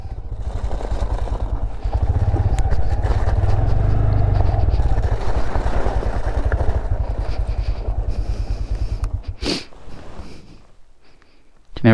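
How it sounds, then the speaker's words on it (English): Motorbike engine running close by on a cold, snowy day in Ireland, a steady loud rumble that holds for most of the stretch, then thins out with a brief sharper burst near the end. "You never see a motorbike before or something?"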